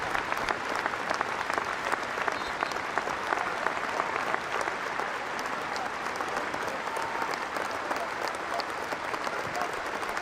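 York City football supporters applaud in a stadium during a match against Maidstone United, a steady dense roll of clapping lasting throughout with crowd murmur beneath.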